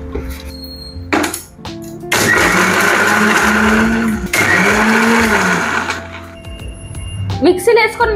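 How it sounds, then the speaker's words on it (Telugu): Kitchen mixer grinder coarsely grinding fried boondi for motichoor laddu, a loud whirring motor in two long bursts with brief pauses, someone talking before and between the runs. "మిక్సీలో వేసుకొని మెత్తగా పేస్ట్ చేసుకోవద్దు. ఇట్లా కొంచెం లైట్గా బరక ఉండాలి కొంచెం."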